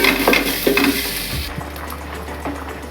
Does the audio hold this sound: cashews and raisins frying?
yes